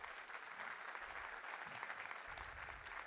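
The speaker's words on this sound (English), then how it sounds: "Can you clap for them, everyone?" A crowd at a Google Cloud community tech event in Bhopal claps for startups, giving dense continuous applause at moderate distance that holds evenly throughout.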